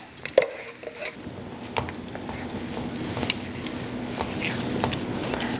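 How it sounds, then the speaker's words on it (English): Crushed tomatoes hitting a hot pan of onion and garlic: a clunk, then a building, steady close sizzle with stirring and light patter, no talk. "Throw this into the pan with the onion and the garlic, and then I'll immediately throw the crushed tomatoes in there"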